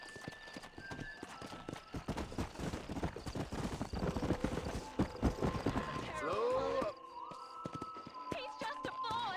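Horse hooves clip-clop in the video game Red Dead Redemption, a quick rhythmic run of clear hoofbeats with a neigh near the end. Game voices talk over them.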